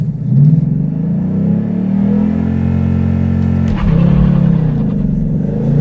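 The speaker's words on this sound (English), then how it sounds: "see what kind of performance we can get out of Ford's launch control feature" A 2018 Ford Mustang with a manual gearbox launches hard in first gear using launch control; a loud, close engine roar climbs steadily, dips briefly at about the 4-second mark, then surges again without a break.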